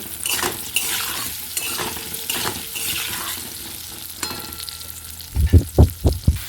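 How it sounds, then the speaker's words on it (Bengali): Potato pieces fry steadily in hot oil with salt and turmeric, a broad crackling hiss, with several loud thumps and scrapes of stirring near the end. "বেশ ভালোভাবে লাল লাল করে আলুটা আমি ভেজে নেব"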